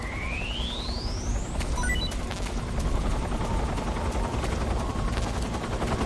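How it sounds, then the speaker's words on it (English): A helicopter in the video game Metal Gear Solid 3 drones steadily throughout, with a rising whistle and a short burst of sharp clicks early on, loud and close with no voices. "I have to be careful not to be seen by the chopper, Rachel."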